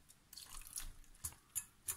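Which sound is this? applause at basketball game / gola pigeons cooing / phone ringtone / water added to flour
water added to flour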